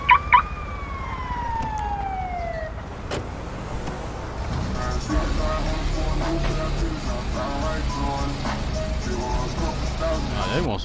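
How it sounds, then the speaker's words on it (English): An ambulance siren in the video game GTA 5 wails in two descending tones at the start, then fades as a car engine rumbles and other game sounds continue. "Oh, that's the ambulance. I thought that was the police."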